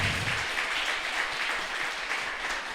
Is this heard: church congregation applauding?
yes